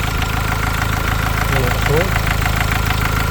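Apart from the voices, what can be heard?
used car engine running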